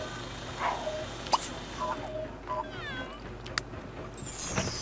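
Cats in The Sims 3 meowing a few times over steady game background noise, with sharp brief yowls and small clicks, moderately quiet.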